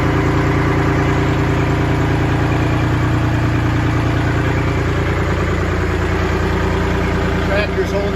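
Tractor engine idling steadily and loudly close by during a 1910 barn restoration, a constant low rumble throughout with no talk.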